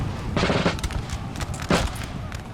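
Musket volleys and rapid crackling gunfire from a battle in Napoleon: Total War come in two clear bursts over a steady battlefield rumble, moderately loud, with no voices.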